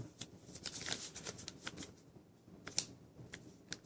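Paper folded for an origami horse makes close, soft crinkling and rustling with several crisp creases and taps in an uneven rhythm, fairly quiet.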